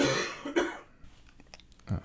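A man coughs during a podcast recording, a few close, rough throaty bursts with a throat-clearing quality, heard alone without speech.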